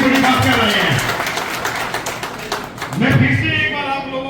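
An audience at a public event claps for a local MLA, scattered hand claps that are partly masked by voices speaking over them, with the talk rising again toward the end.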